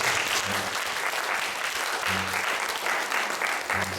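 Steady applause from a church congregation during a Sunday service, continuous and dense throughout, with a faint low hum underneath.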